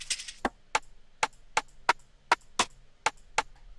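Sharp, dry rim shot drum sample hits in FL Studio repeating in a steady rhythm, about nine crisp woody cracks, loud and isolated.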